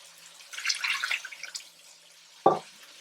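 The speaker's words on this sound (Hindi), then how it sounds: "तो इसमें पानी डालती हूँ।" Water is poured into a pan of cooking tomato masala, a short splashing pour followed by a sharp single clink, close and clear in a quiet kitchen.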